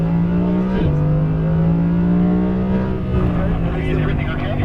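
An Audi R8 V10 engine howls at full throttle on a race track, a loud, close, steady high-revving drone that briefly dips with a gear change before climbing again, with talk running over it.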